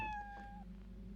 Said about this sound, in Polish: Czy ja słyszę kotka?